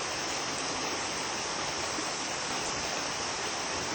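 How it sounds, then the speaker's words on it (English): A park stream flows with a steady, dense rush of water. It is loud and continuous throughout, with no voices or other sounds standing out. "listen to the water."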